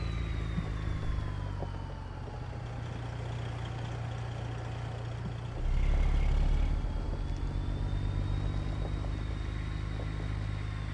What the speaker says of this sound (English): the engine is loud.